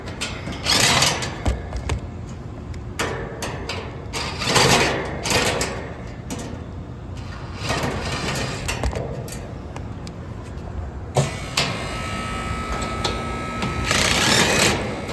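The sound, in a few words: HVAC compressor running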